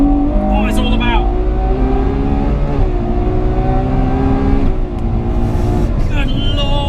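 A Ferrari 812 Superfast screams at high revs while accelerating hard on a track, its engine pitch climbing steadily before a quick upshift breaks the tone and it pulls again, loud and close throughout.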